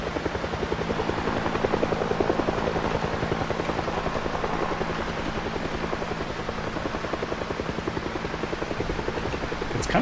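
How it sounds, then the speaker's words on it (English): Helicopter hovering overhead in the video game Project Zomboid, a steady, loud rotor chop with a constant engine drone that persists throughout. "I guess the helicopter just kind of hovers over us."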